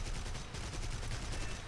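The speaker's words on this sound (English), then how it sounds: "Gonna shoot him a little. Just got the cannons back." Aircraft cannons fire in War Thunder during a dogfight, a dense continuous rattle of rapid bursts with a heavy low rumble, loud and steady, with no talking.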